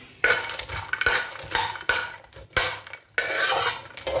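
Fox nuts (makhana) are stirred and scraped around a pan as they fry, giving repeated close rasping and clattering strokes in uneven bursts with short pauses between them; no one speaks.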